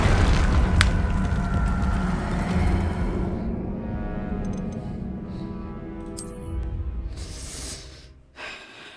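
An Incendio fire spell cast in Hogwarts Legacy erupts with a loud, booming whoosh that swells and then gradually fades, followed by quieter game sounds and a brief late burst.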